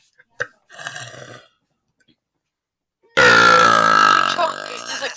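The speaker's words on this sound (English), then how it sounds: "I'm going to burp" A long, loud, deep burp rumbles close to the microphone for about two seconds, preceded by a short quieter burp-like sound and a click.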